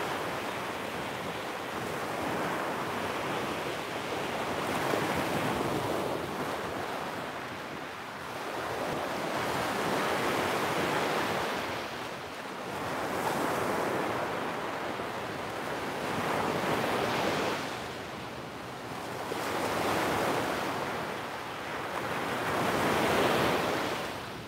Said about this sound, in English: the sounds of the waves